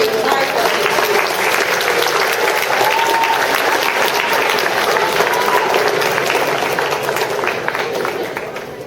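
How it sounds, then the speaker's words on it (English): Sustained round of applause from an audience at a high school senior awards ceremony, dense steady clapping from a large crowd for several seconds before gradually tapering off at the end. "Please give a big round of applause to this very hardworking team."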